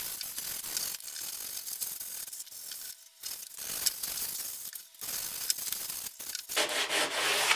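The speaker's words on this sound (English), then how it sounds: "I'm going to take a piece of 180 sandpaper, 220 grit if I had it. I'm going to lightly scuff it all." Hand sanding of polyurethane-coated rough-sawn lumber with 180-grit sandpaper, a steady close scratchy rubbing in repeated back-and-forth strokes with brief pauses between passes, heard alone.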